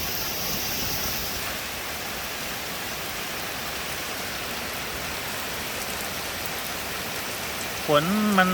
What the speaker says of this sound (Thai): ฝนมันตกไปแล้วนะ